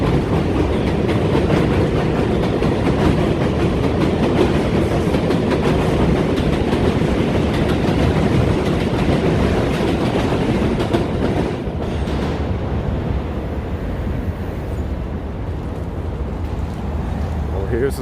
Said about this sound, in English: Yeah, that's a 7 train above.